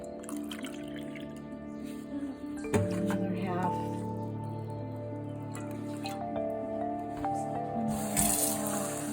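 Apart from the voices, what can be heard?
pouring water and vinegar into a pan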